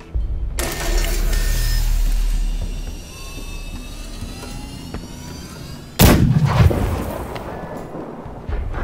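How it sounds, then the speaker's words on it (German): A heavy cannon in Deathloop fires with a loud, booming blast, followed by a long rumbling, metallic ring and another sharp report later, with no talk. "Ich weiß nicht, wie ich die Kanone benutzen soll"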